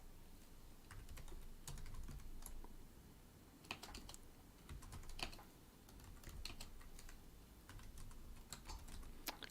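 Steady typing on a computer keyboard during a live C++ coding session, close and quiet, with irregular bursts of key clicks and occasional sharper taps and no voices.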